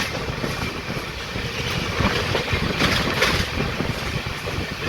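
The Lingampally Intercity Express from Vijayawada rolls along, heard from on board as a steady loud rumble and rattle of wheels and carriages with no pauses, continuous throughout.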